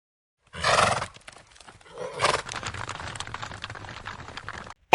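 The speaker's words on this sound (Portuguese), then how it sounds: "É o cavalo de Tex" A horse whinnies loudly up close, then a second neigh follows amid softer shuffling and scraping movement, with no talk over it.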